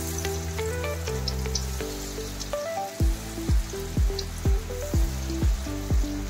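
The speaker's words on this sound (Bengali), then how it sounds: "এবার আমি একটা একটা করে চপগুলোকে ছেড়ে নেব।" Banana flower chops frying in hot oil in a kadai, a steady close sizzle with a series of sharp drops or pops every half second or so as pieces go in, plus a tonal hum beneath, no talking.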